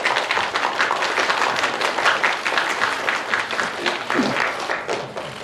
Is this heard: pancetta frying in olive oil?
no